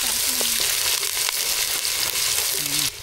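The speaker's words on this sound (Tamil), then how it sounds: "பச்சை மிளகாய் கருவேப்பிலை நல்லா பொரிஞ்சிட்டு பூண்டு வெங்காயம் சேர்த்துக்கலாம்." Garlic and onion fry in oil with green chilies and curry leaves, giving a loud, dense sizzle with stirring scrapes and a few short tonal squeaks before it drops off near the end.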